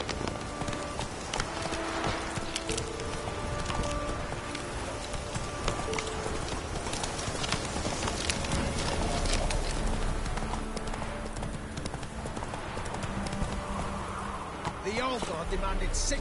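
Steady horse hooves clip-clop in a video game, a continuous rhythmic trot under dense game ambience and background music, with a voice briefly urging the horse on.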